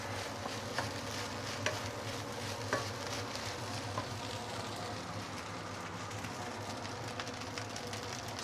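Seafood fried rice stir-frying in a hot wok, a continuous dense sizzle and hiss with faint scattered clicks of a utensil, steady and moderately quiet throughout.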